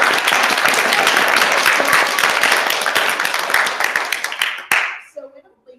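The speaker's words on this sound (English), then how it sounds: "Sure, give a round of applause." An audience at a spelling bee claps for the final two contestants, a full, lively burst of many hands that holds steady, thins out toward the end and stops abruptly, leaving faint room sound and a brief murmur.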